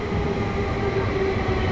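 A passenger train heading from Helsinki airport to the central station gives a steady interior rumble with a sustained hum, heard from inside the carriage for the whole stretch.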